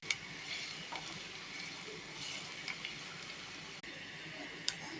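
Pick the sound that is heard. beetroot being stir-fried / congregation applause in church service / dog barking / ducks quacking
beetroot being stir-fried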